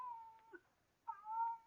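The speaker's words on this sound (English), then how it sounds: "You stepped on Sabina's tail" A cat yowls in pain after its tail is stepped on, two drawn-out tonal cries separated by a short pause, close and clear against a quiet background.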